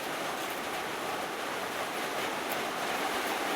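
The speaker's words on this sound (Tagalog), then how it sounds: "Malakas yung ulan." A heavy rainstorm at a house, steady roaring wash of rain falling hard and continuously, loud and near, with no voices over it.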